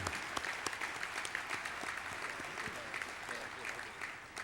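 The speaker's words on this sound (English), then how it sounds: "How about another round of applause for Bill Webb, new Hall of Fame inductee." An audience at a track and field coaches' Hall of Fame induction applauds continuously, a dense patter of many hands clapping at steady volume throughout.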